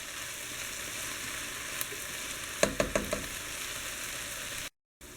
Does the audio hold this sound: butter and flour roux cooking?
yes